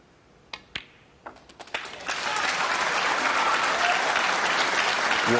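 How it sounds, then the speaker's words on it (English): A snooker crowd bursts into sustained applause during Mark Selby's 147 break at the 2023 World Championship final against Roberts, a few isolated claps first, then a dense, steady ovation. "The crowd are getting behind him."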